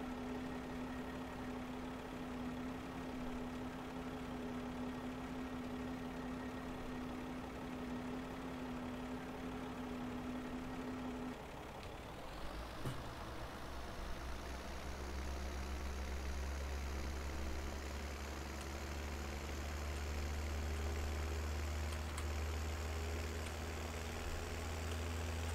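A tractor engine in Farming Simulator 17 idles with a steady low drone, then revs up partway through into a louder, deeper sustained rumble that holds to the end, with no talking.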